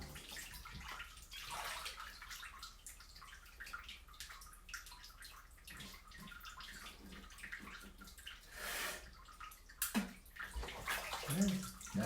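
Bathtub water sloshing and trickling as someone washes in a tub, soft splashes and drips rising and falling at close range with no talk.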